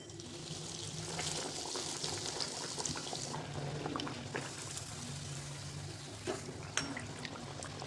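Aloo tikki patties sizzling in hot oil over a full flame, a steady close crackle and hiss that runs the whole time with small pops, no voices.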